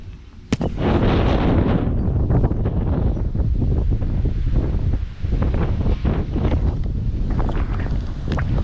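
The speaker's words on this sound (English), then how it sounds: "when you can hear the bleachers creaking, you know it's a windy day" Strong, steady wind roars and buffets the microphone throughout at a six-hour cycling race, with gusty low rumbling and occasional creaks and knocks from bleachers in the background.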